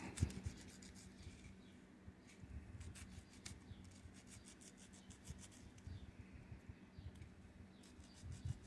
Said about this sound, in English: Then I can take a sanding stick and smooth it out